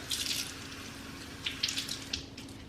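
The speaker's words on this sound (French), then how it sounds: "Je vais d'abord prendre un torchon propre, bien évidemment, que je vais mouiller" Tap water runs over a clean dish towel being wetted in a kitchen while making sourdough bread, a soft steady stream with a few brighter splashes, fairly quiet and without any voices.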